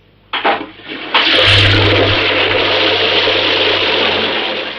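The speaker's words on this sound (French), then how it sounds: "Actionne la chasse d'eau" A toilet flushes in a French radio comedy scene. A couple of clunks from the handle come first, then a loud rushing surge of water that keeps going and slowly tapers off.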